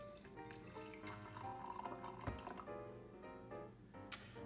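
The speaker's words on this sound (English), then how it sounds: "So we're going to try soaking the glued in metal pieces in more hot water." Hot water running and trickling into a candle jar to soak glued-in metal pieces, a faint, steady splashing flow with small drips, close by, no talking.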